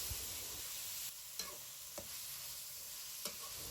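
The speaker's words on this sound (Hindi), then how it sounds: "चिकन को अच्छी तरह से फ्राई करेंगे ताकि चिकन का कच्चापन ख़त्म हो जाए" Chicken pieces fry in a pan for desi-style chicken spaghetti, a faint, even sizzle broken by a few soft clicks of stirring.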